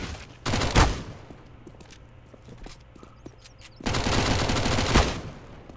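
Gunfire in the video game CS:GO, two loud sustained bursts of rapid shots separated by a quieter stretch with faint clicks and footsteps.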